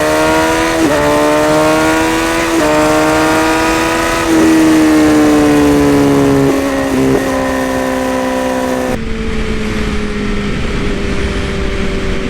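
A 2017 Honda CBR1000RR sportbike accelerates hard from up close, its engine note climbing through several gears with short dips at each shift, loud and continuous, with rushing wind noise that eases off near the end.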